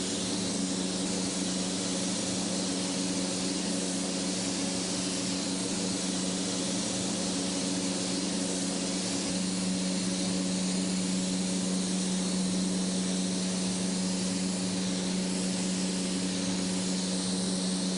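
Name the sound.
overhead extraction fans with an industrial paint spray gun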